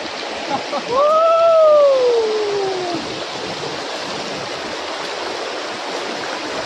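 Bhegu waterfall in a monsoon valley on the Maharashtra–Gujarat border pours with a steady broad rushing roar, while a brief rising-and-falling tonal call sweeps over the water noise early on.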